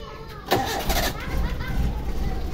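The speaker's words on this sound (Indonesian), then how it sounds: "Kita starter lagi." A Suzuki Espass car converted to run on LPG being started, the starter cranking briefly before the engine catches and settles into a steady, slightly uneven idle close by, with faint voices in the background.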